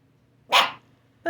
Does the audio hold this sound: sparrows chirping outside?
no